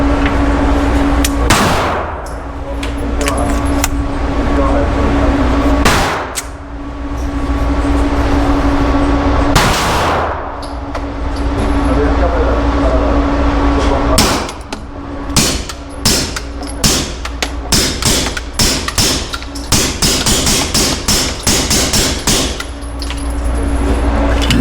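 A suppressed Beretta 92XI pistol fires supersonic loads, sharp close cracks that begin spaced apart and then come in a quick series of rapid shots over a steady background rumble.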